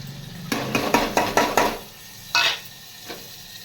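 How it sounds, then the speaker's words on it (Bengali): Chopped onions tipped into hot oil in a pan, several sharp clattering scrapes and stirring knocks of a utensil against metal with a soft sizzle beneath, then a couple of later isolated scrapes. "দেখো এরপরে আমি দিয়ে দেব কেটে রাখা দেখো পেঁয়াজ"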